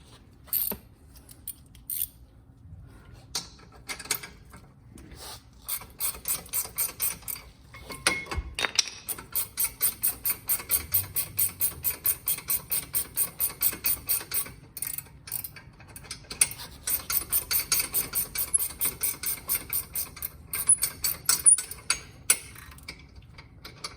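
A stubby ratchet backs a bolt out of the rear brakes of a Mercedes GLK350, giving long runs of fast, evenly spaced metallic clicks, close and crisp, with a heavier clunk early on.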